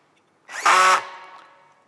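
A power screwdriver drives a screw into a connector on a Hueck Trigon FS 050 aluminium mullion-transom facade post, giving one short, loud, close whirring burst of about half a second that fades away.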